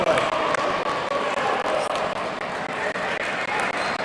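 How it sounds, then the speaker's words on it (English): A loud crowd fills a basketball game with a dense, steady roar and scattered squeaks and thumps from the court, while a voice talks over it. "And this crowd is loud here"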